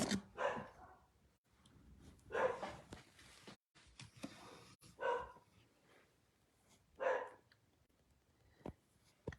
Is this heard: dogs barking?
yes